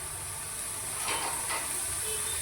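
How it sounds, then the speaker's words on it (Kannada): Oil sizzles and hisses in a hot pan as a dish fries once its water has cooked off, a steady close hiss with a brief swell of stirring in the middle and no talking. "ನೀರೆಲ್ಲ ಡ್ರೈ ಆದಮೇಲೆ ಸ್ವಲ್ಪ ಆಯಿಲ್ ಹಾಕಿ, ಬೇಗ ಫ್ರೈ ಆಗುತ್ತೆ"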